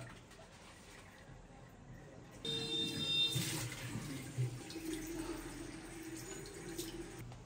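Tap water running and splashing into a basin as someone washes their face, starting abruptly after a quiet stretch and continuing with close, uneven splashes; no talk.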